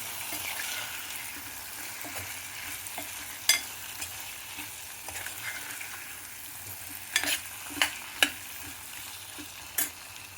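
Potato pieces frying in a pan with a quiet, steady sizzle, punctuated by a few sharp clinks of a utensil stirring against the metal, close but soft, no voices.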